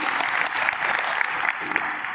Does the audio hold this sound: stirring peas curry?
no